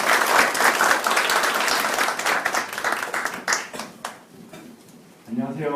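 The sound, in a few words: audience applause for a speaker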